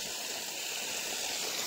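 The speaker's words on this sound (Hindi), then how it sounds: "ये आ रहा है पानी, ये ऊपर से आ रहा है, काफ़ी ऊपर से" Water pours down steadily from high above into a stream, a continuous bright rushing splash close by, alone without voices.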